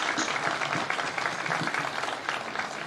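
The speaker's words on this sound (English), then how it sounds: "I'm going to ask the class of 2022 right now to join me in giving your" A graduation crowd applauds the parents at a high school commencement: broad, sustained clapping from a large audience throughout, with a murmur of voices mixed in.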